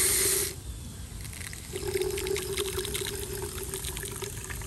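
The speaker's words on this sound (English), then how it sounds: "I'm gonna just very slowly pour in the water" Water poured slowly into a container while mixing an orchid thrips treatment, a steady gentle flow that starts after a brief louder rush and continues evenly at close range.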